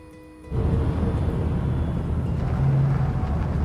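A car in the video game Cyberpunk 2077 starts driving, its engine rising abruptly into a steady, loud, droning rumble that continues without talk.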